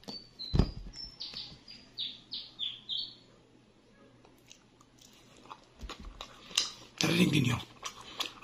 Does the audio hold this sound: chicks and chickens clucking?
no